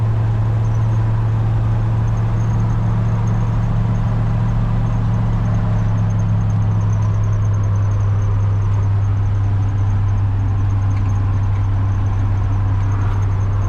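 A 1949 Ford F-6 truck with side-pipe exhaust runs at a steady, easy low rumble, a constant deep engine drone heard from inside the cab with no speech.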